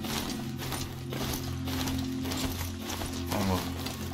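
Hooves of a mechanical horse-like machine being ridden in Horizon Zero Dawn, a steady clatter mixed with whirring gear and ratchet noises under sustained game music.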